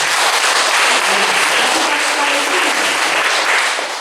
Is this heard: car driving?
no